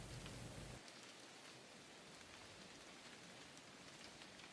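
Steady rain falls through a damp pine forest at night, a dense, even patter of drops on leaves and ground that continues without pause after a brief louder low rumble at the start.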